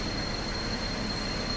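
Train running in Train Sim World 2 on a Rhine-Ruhr Osten scenario, a steady broadband rumble of wheels and carriage noise with a faint high whine above it, continuous and unbroken, with no talk.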